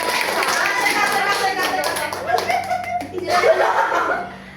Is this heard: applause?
yes